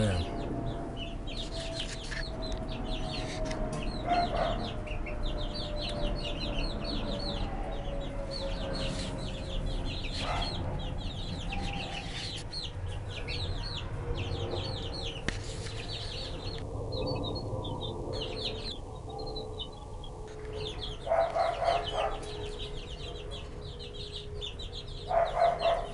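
Japanese silkie five-toed chickens and a rooster cluck steadily over continuous background noise, with brief sharper calls scattered through the stretch and a few louder ones toward the end.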